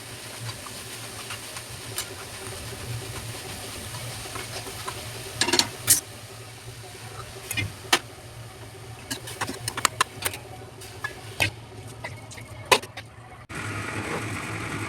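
Usal is sautéed with onion and tomato in a home kitchen: a quiet pan hiss is broken by scattered sharp clicks and scrapes of stirring, and the background shifts abruptly near the end.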